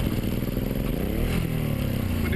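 Suzuki Boulevard M109R motorcycle engine drones loud and close, then surges in a short rev as the bike pops out of second gear, with mechanical clatter underneath and no voices.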